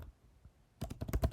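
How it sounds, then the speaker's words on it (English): Quick burst of typing on a computer keyboard, a rapid cluster of close, crisp key clicks after a brief quiet pause, no talking. "I'm going to type in Maxwell"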